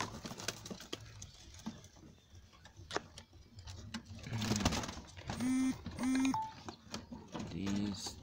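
Pet pigeons cooing in short low bursts while being fed, mixed with pecking taps and handling noises, close by and moderately loud, with brief human voice.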